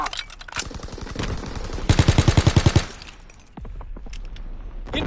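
Rapid automatic gunfire in a video game as enemy recon aircraft are engaged, a loud close machine-gun stream with a sharply rhythmic burst of evenly spaced shots, then scattered firing after a short drop.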